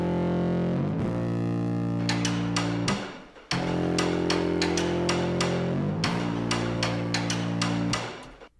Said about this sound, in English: bass through a guitar pedal called the Big Cheese, which is like a fuzz, super crunchy pedal